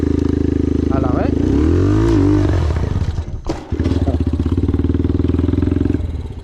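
A motorcycle engine revs hard, close and loud, as the rider feathers the clutch to lift a wheelie; the revs climb, cut out briefly, then pick back up into a steady pulsing throttle.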